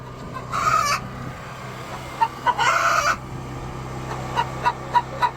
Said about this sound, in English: Let's go see the chickens.